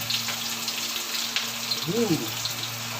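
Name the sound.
chicken skin frying in hot oil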